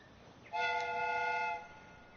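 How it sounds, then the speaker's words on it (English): A steam train whistle in a video game sounds once, a bright chord of several tones held for about a second before fading. A quiet hiss stays in the background. "steam whistle is ready to be used."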